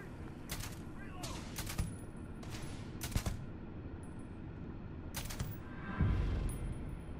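Gunfire in the video game Starfield: several sharp, separate shots spaced irregularly over a steady low rumble, each a crisp crack, with a heavier burst near the end and faint voices in the mix.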